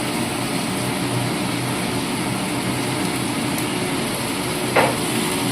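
Vegetables for Bengali shukto sautéing and being stirred in a pan, a steady close sizzle filling the whole stretch with a brief scrape near the end.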